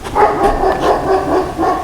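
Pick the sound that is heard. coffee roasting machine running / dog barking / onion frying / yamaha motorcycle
dog barking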